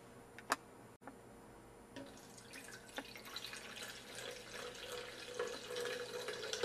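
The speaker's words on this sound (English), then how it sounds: "I'm going to pour in 40 ounces of alkaline water" Alkaline water trickles and splashes steadily into a container, growing fuller and louder after a few isolated drips at the start; no voices.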